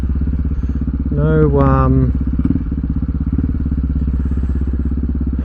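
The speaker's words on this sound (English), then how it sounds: "No clutch, downshifting. By blipping the throttle." A motorcycle engine idles with a steady, throbbing rumble, then the throttle is blipped once into a short rising rev during a clutchless downshift before it settles back to idle, loud and close.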